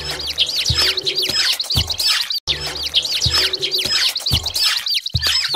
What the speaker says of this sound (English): Can you spot the sparrows feeding on grains and seeds?